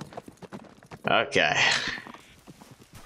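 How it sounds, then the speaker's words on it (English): A horse runs up in Red Dead Redemption 2 with quick hoof clip-clops under game dialogue, a short burst of louder speech and sound partway through. "Look at my horse running to me."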